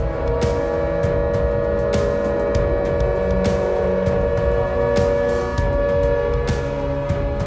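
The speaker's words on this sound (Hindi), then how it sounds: "एयर रेड्स के सायरन बज रहे हैं।" A steady, wailing air raid siren drones on continuously, loud and sustained, with scattered sharp clicks and crackles over the top.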